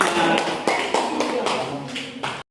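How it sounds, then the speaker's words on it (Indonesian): A class of students applauding a student group, brisk, dense clapping close by with a few louder accents and a faint voice underneath, cutting off abruptly at the end. "kasih tepuk tangan untuk kelompok 5"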